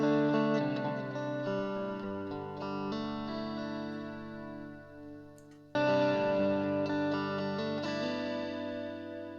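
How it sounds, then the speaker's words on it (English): A Boss Katana Air guitar amp set to its crunch model with the gain and bass turned down plays a mildly overdriven guitar phrase. Chords ring and sustain, pause briefly, then a second strum follows, with no talking. "let's do something with the crunch amp. We'll take the gain down a bit and bass, and you get this sort of thing"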